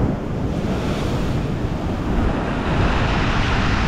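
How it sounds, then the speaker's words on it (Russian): Loud, continuous storm surf roars and churns against a concrete breakwater at Divnomorskoye, with heavy wind buffeting the microphone throughout. "Вот волны, прям посмотрите, как бетон разбивают."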